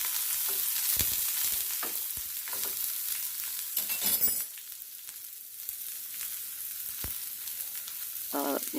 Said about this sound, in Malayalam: അതിലേക്ക് നമ്മൾ അരിഞ്ഞു വെച്ചിരിക്കുന്ന സവാള, ഇഞ്ചി, പച്ചമുളക് അരിഞ്ഞത് ഇതെല്ലാം കൂടിയിട്ട് നന്നായിട്ടൊന്ന് ഇളക്കി കൊടുക്കുക